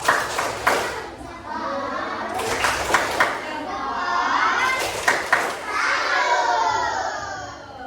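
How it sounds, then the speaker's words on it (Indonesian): Classroom children perform a rhythmic 'tepuk salut' clapping chant, bursts of unison claps alternating with voices chanting and shouting together, loud and close. "kita kasih tepuk salut dulu untuk kita semua"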